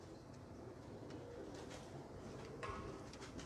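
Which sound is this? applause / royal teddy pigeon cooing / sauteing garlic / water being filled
royal teddy pigeon cooing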